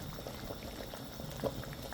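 Water boils steadily in a pot of beef, bubbling and popping continuously at close range, with one slightly louder pop midway and no talking.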